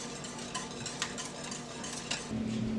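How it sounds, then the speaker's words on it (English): Fresh grated cauliflower grits with vegetable stock stirred in a pot, a spoon scraping and tapping in quick repeated strokes with a soft simmer underneath. "So we're just going to stir and stir and stir."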